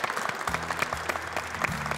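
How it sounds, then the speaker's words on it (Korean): Faint, steady clapping from a church congregation during a Korean church program, with soft keyboard-like music sustained underneath. "박수 부탁드리겠습니다."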